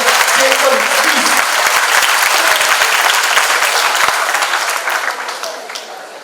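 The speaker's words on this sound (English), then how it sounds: "please a round of applause for all the police department of Telangana and the state police" An audience at a Telangana police inauguration event applauds loudly with dense, steady clapping that fills the room, then gradually thins and fades toward the end.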